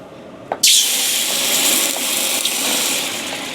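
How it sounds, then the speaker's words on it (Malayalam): Water is poured in a sudden loud rush into a pot of fried rice ingredients. It follows a small knock and settles into a steady bubbling hiss that lasts to the end. "സാധനങ്ങളെല്ലാം ഇട്ടു നമുക്ക് വെള്ളം ഒഴിച്ചു കൊടുക്കാം"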